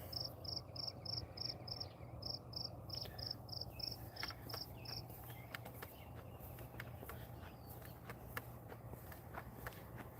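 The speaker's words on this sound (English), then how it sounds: "Hear the crickets." Crickets chirp in steady pulsed trains at dusk beside an old depot building in Sterling, Ohio, a clear high repeating trill for the first half, with faint footsteps and low ambient hum underneath.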